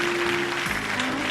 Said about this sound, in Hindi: इन तमाम बच्चों के लिए बहुत सारी तालियां होनी चाहिए